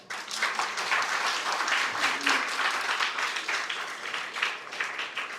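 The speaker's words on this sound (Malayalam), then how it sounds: "അതിനൊരു കയ്യടി നമുക്കിപ്പം കൊടുക്കാം." An audience breaks into sustained applause, a dense, steady wash of many hands clapping that holds for several seconds at moderate distance, with a faint voice briefly audible underneath.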